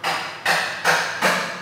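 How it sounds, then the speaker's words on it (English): Hammering on a Sprinter van engine in a nearby work area: four loud, evenly spaced metallic blows about 0.4 seconds apart, each with a short ringing decay, heard alone. "My brother's working on a sprinter engine over there."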